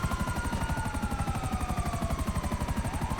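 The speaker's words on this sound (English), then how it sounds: "See how soft this helicopter lands compared to the one that's inside of your submarine?" A helicopter in the video game GTA Online thumps with fast, steady rotor beats and a rising turbine whine as it comes down gently, loud and close throughout.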